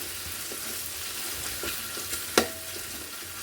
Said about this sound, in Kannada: ಸ್ವಲ್ಪ ಫ್ರೈ ಆಗಬೇಕಿದೆ, ಗೋಲ್ಡನ್ ಕಲರ್ ಫ್ರೈ ಆಗಬೇಕು